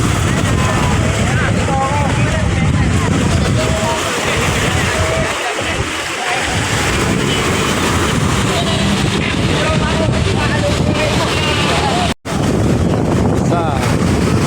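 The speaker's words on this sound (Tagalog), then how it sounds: "Malaking bangka to" A large wooden fishing boat rides the water of Manila Bay in stormy weather, with strong, constant wind buffeting the microphone and a broad rush of water and engine noise throughout, while voices talk faintly underneath.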